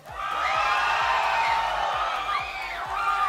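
A large crowd at a live esports tournament roars and whoops loudly and continuously, with rising shouts of excitement and a steady low pounding beat underneath.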